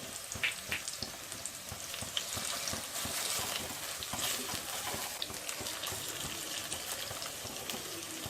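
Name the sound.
frying spring onions with turmeric and ginger garlic paste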